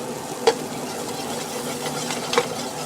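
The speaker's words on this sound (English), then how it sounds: "Now while it's doing that, I'm going to stir it." Butter, margarine and garlic stirred together in a pan, giving two short scraping strokes of a utensil over a soft, steady background hiss.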